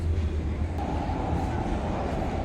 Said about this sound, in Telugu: వచ్చేస్తుంది మా U5 వచ్చేస్తుంది.